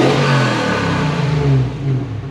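A supercharged Toyota 1UZ V8 fitted in a Prado revs strongly and loudly, a continuous close engine roar with a slight rise and fall in pitch.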